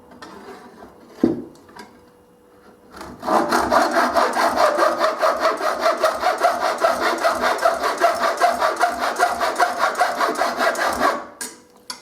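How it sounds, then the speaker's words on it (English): Handsaw trimming a mitre on a wooden window apron, a brief knock and then a rapid, even run of back-and-forth rasping strokes that lasts about eight seconds before it stops. "we'll just get this trimmed off"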